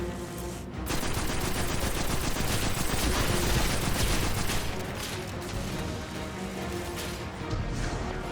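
A gun in the video game Destiny 2 fires in a loud, sustained burst of rapid shots, a dense rattle of gunfire that runs for several seconds before easing near the end.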